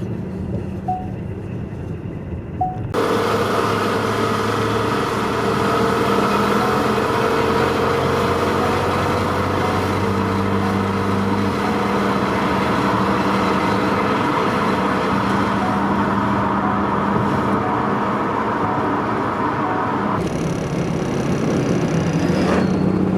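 A vintage Mercedes-Benz 200 Cabrio C W21 drives along, its engine a steady, loud drone with road rumble that holds throughout, shifting in tone near the start and again toward the end.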